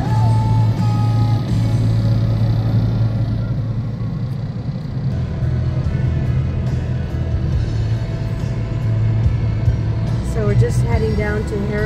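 A car drives along the road to Herradura Beach, with a loud steady engine rumble and road noise throughout, and people talk over it.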